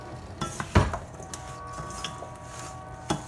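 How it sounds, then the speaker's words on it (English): A spoon stirs seasoned potatoes in a metal dish, making several clinks and scrapes against the pan over a low background, with one louder knock near the start. "let's stir that around with a spoon."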